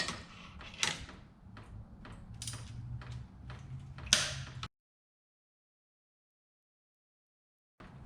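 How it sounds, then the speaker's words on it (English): A ratcheting wrench works bolts loose under a 1999 Mustang GT, with a series of creaking, clicking ratchet strokes and a few sharper metallic knocks, followed by silence. "I just need to ratchet this one out"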